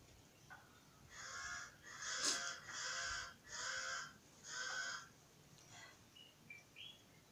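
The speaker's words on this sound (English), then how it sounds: "I have birds singing," Birds calling among trees in The Gambia, a series of five harsh, evenly spaced caws at moderate distance over a quiet breezy background, followed by a few faint chirps.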